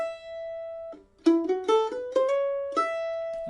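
Mandolin picks a repeating phrase from the B part of Monroe's Hornpipe, an intermediate bluegrass tune: a long held note, then a quick run of bright plucked notes with a little slide, ending on a sustained ringing tone, played solo and close.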